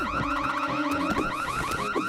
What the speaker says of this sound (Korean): 경보 아니야?